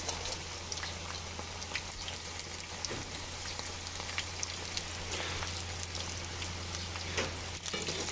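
Banana slices frying in hot oil for crispy banana chips give a steady, close crackling sizzle that runs without a break, with scattered sharper pops and a low constant hum underneath. No voices are heard.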